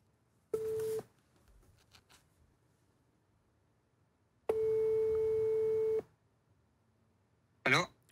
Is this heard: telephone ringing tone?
yes